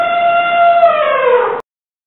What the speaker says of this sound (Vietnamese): Con voi.